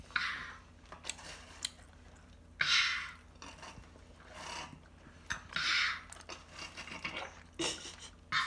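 Close, crunchy chewing of seasoned Korean-style fried chicken comes in bursts of wet, crisp bites with short pauses between them, and no talk is heard.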